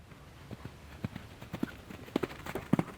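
Horse cantering through a bounce jumping grid, its hooves striking the ground in a steady rhythmic clip-clop of close, distinct thuds that grow louder toward the end.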